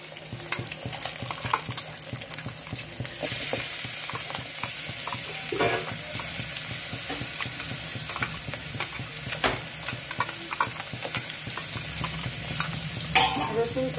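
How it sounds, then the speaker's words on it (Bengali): Black cumin and garlic fry in hot oil for a pumpkin-flower paste, a loud steady sizzle with scraping stirs of a spatula and a few sharper crackles, close up and without speech. "কালো জিরে দেওয়ার পর এখানে একটু রসুন তেলে দিয়ে দেব।"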